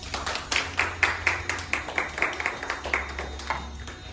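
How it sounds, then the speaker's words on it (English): A small group claps in a steady rhythm of distinct, close hand claps for several seconds at a girls' golf mentoring event, with a low hum underneath. "Give yourselves a round of applause."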